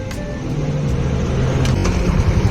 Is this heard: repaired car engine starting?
yes